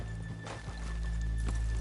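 In the video game Red Dead Redemption 2, horse hooves clip-clop slowly nearby while a horse gives a short whinny, over a steady low background hum.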